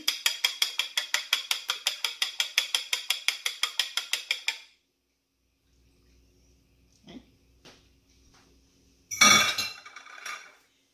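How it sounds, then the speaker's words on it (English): Eggs lightly beaten for a New York cheesecake, a fork or whisk clicking rapidly and evenly against a bowl for about four seconds, followed by quiet and a few scattered clinks of kitchenware. "he wants you to beat them first. So lightly beat them."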